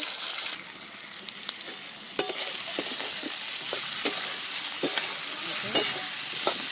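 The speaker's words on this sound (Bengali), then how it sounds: "এবারে দেখো আমার মাছ ভাজা হচ্ছে" Fish frying in a pan: a continuous bright sizzle dotted with many crisp crackles and spits, fairly close and steady throughout.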